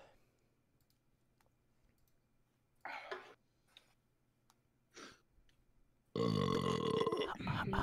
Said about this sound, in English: That's a normal burp.